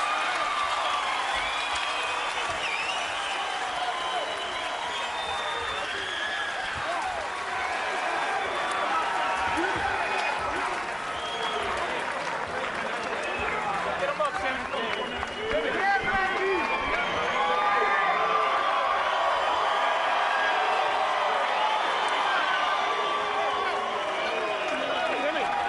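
A hometown crowd of about 2,000 fans at a boxing match cheers and roars in a sustained, dense wash of noise, with a commentator's voice talking over it throughout.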